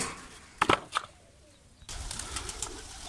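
Pigeons in a loft where many birds have died of disease give a few brief, close flutters and calls, followed by a steady low background rustle.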